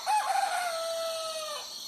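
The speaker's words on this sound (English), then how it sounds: "These clucking chickens and a big rooster named St. Charles were raised and recorded by Sienna Cimino of Takoma Park." A backyard rooster kept among urban chickens in Takoma Park crows once, close and clear, with a long drawn-out call that tails off over quiet surroundings.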